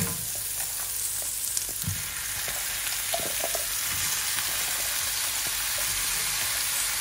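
Bok choy sizzles and fries steadily in a pan with tomatoes, a continuous close crackle with a few small stirring clatters and no talking.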